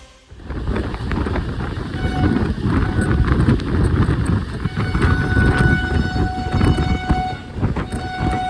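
A train rumbles steadily through the Nallamala forest between Nandyal and Giddalur, India, with a loud, continuous clatter of wheels on track, plus some high metallic squeals.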